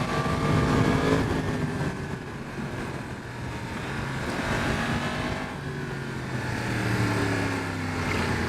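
A 2023 Yamaha MT-10 SP motorcycle ridden in pouring rain, its engine droning steadily with rising and falling revs, under constant wind and road roar.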